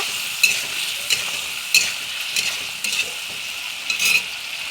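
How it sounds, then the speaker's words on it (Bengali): A spoon repeatedly stirs chili and ginger paste frying in a pan, giving steady sizzling with sharp scraping strokes at irregular intervals, close and alone with no talking. "মরিচ আর আদা বাটা দিয়ে আমি আবার ভালো করে নেড়াচাড়া করে নেব"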